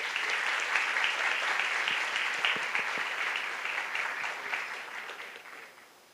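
An audience applauds honorees at a legal-community ceremony in a hall, a sustained, fairly distant wash of many hands clapping that stays steady and then gradually fades toward the end.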